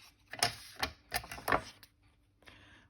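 Scissors cut through a paper template for a file folder with pockets and flaps, giving several close, crisp snipping bursts. A short pause follows, then a fainter rustle.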